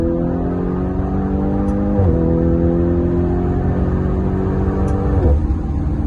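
A 650-horsepower Lamborghini Urus downshifts on a road test, its engine tone climbing steadily then dropping twice in clear gear changes, loud and close from inside the car with no talk.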